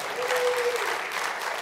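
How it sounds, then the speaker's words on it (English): A church congregation applauding during a Sunday service, a short burst of steady clapping at moderate distance, with a brief voice sounding over it. "That was actually where you were supposed to applaud."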